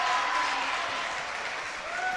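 A high school boys' basketball crowd roaring and applauding in a gym after a made technical free throw, a loud sustained wash of cheering.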